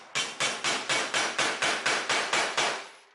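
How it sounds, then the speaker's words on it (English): Repeated hammer blows with the pointy side of a hammer, setting a boat snap button until tight: about thirteen sharp, evenly spaced strikes in quick succession, close and fairly loud, with no talking. "hammer and just hit it until it's tight"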